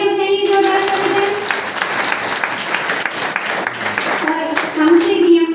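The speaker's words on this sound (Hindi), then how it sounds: "तालियां बजाएंगे जोरदार से" A temple audience at a Jain Parasnath Nirvana festival claps loudly in a sustained burst of applause lasting several seconds, with a speaker's voice heard just before and after it.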